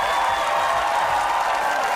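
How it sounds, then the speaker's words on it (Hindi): Applause and crowd noise at a live stand-up comedy show on school punishments, dense continuous clapping with a faint cheer mixed in, loud and unbroken throughout. "जोर से तालियां बजाएं भाई,"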